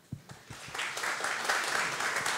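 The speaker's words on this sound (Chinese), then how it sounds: "我们再次掌声谢谢 Simon" An audience at a game-industry forum in Kaohsiung breaks into applause; a few separate claps quickly swell into a steady, dense round of clapping that carries to the end.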